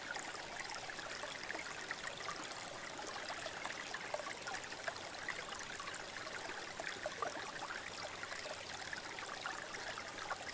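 A flowing river stream rushes steadily and evenly throughout, a close, continuous wash of water with no voices or other sounds.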